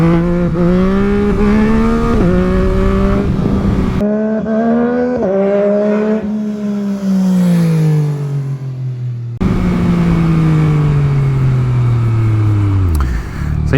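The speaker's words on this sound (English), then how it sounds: "that's the MT09 wheelies" A 2022 Yamaha MT-09 motorcycle revs hard during wheelies, its engine pitch climbing and falling through repeated loud acceleration runs, with gear changes and a final deceleration.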